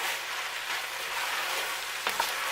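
Stew meat sizzles in a hot cast iron pan with a steady, rain-like crackling hiss, plus a couple of brief clinks near the end.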